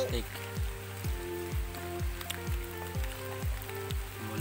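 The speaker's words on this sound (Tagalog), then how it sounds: "Inabot kami ng ulan." Rain falls outdoors during a fish-hunting trip, a steady pattering hiss on surfaces heard alongside a rhythmic repeating low thumping and people talking.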